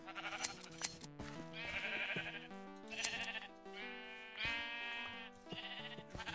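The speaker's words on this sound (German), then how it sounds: "Nein, Schaf, ihr kommt hier nicht raus." Minecraft sheep bleat repeatedly, several wavering calls one after another close by, with a few sharp clicks at the start.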